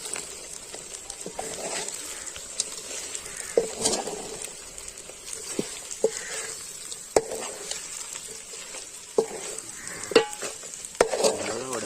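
Chicken uppu curry sizzles steadily in a pan while a spoon stirs it, with soft scrapes and occasional light clinks against the pan over the constant frying hiss.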